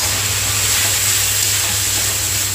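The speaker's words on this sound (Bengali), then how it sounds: "এবার আদা রসুন আর কাঁচা লঙ্কাটা দিয়ে দেবো" Ginger, garlic and green chili sautéing in hot oil in a pan, giving a loud, continuous close-up sizzle with a steady hiss and no talking over it.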